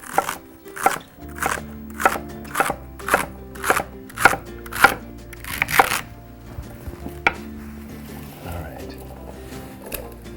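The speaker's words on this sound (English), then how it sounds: "Quick chop, and it goes in." A knife chops vegetables on a cutting board for stock, about a dozen sharp, evenly spaced thuds over several seconds, close and loud, then stopping into quiet kitchen background.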